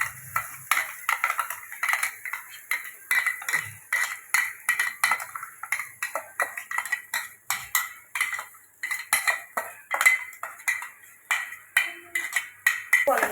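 Metal spoon or spatula stirring and scraping paneer butter masala in a pan, steady repeated clinks and scrapes in a busy rhythm, close and fairly loud, with no talk.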